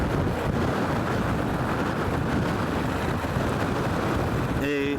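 Steady, continuous wind roars across the microphone during a bike race, a dense unbroken rush that stays loud and even from start to finish, with no gusts.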